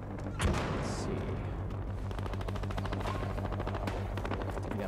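FAL rifle firing full-auto in the PS3 shooter Battlefield Hardline multiplayer, a loud, rapid, continuous burst of gunfire with a heavy blast near the start, alone without talk.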